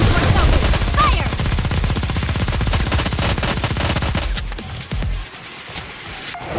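A rapid, sustained volley of gunfire in the Nikke: Goddess of Victory video game, dense automatic bursts at high volume that cut off and fade near the end.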